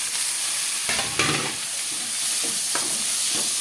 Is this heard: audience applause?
no